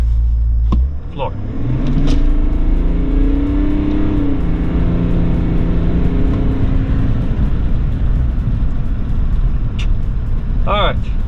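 A 3.0L LM2 Duramax pickup with a PPE turbo resonator delete pulls away under full throttle, its diesel engine note rising steadily and staying loud and close for several seconds, with people talking in the cab over it.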